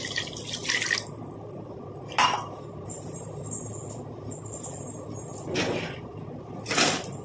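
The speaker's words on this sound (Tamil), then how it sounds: "1 டம்ளர் அளவுக்கு நான் தண்ணி சேர்த்துக்கிறேன்" Short bursts of water pouring and splashing into a turmeric mixture in a kitchen, about four brief separate pours over a quiet background with faint room noise.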